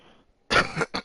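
A single close cough bursts out, followed by a couple of shorter hacks, with faint noise before it.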